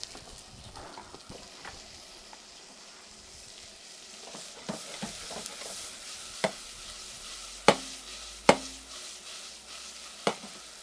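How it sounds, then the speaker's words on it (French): Onion, garlic and tomatoes sautéing in olive oil in a pan, a low steady sizzle with occasional stirring and a few sharp clinks of a utensil against the pan, no talking. "Je fais revenir mon oignon d'abord, ok, 1 minute ou deux, le temps qu'il soit translucide."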